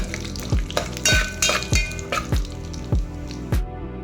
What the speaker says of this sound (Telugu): కాగిన తర్వాత మసాలా దినుసులు వేసి కొంచెం వేయించాలి